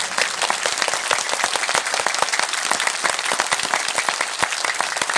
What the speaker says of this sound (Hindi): तो ताली हो यादव की, और करके बजाओ, और जोर से बजाओ